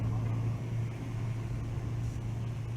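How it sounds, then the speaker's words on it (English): Big block Mopar V8 engines, including one in a 1967 Dodge Coronet B-body, rumble steadily at a drag race, a constant low droning idle with no clear revving. "Pair of Mopar big blocks going to work."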